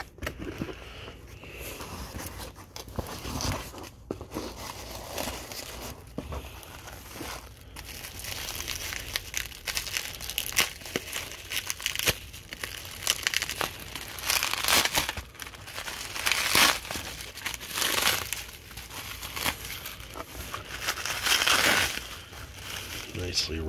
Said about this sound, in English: Nicely wrapped in bubble wrap.